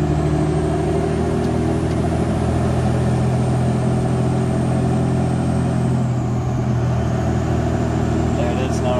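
An 03-04 Cummins diesel pickup engine runs on a 12 valve tune while driving, producing a steady, continuous mid-low drone and rumble at constant level for the whole stretch, with no talking.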